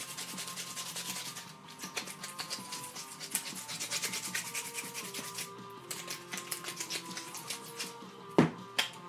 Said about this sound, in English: I'm just mixing up some Magic Sculpt because it's easier to get a base form for this sash